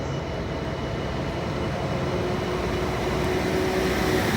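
Steady rumble of an Avanti West Coast train at a station platform near Warrington, a nine-coach service, held at an even level throughout with a faint tonal whine and no talk.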